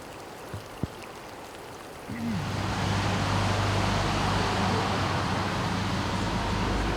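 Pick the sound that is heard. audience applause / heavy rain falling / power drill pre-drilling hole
heavy rain falling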